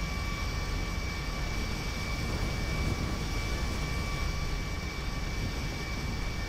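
Steady airplane engine drone from the GTA V video game, a continuous loud roar with a constant tonal hum holding evenly throughout, no talk over it.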